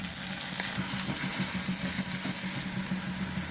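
Grated carrot frying in ghee in a wok, a steady soft sizzle with faint stirring scrapes, close and continuous with no talk.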